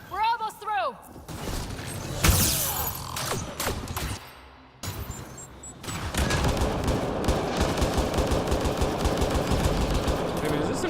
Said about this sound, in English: Didn't realize it was an automatic pistol when I made it.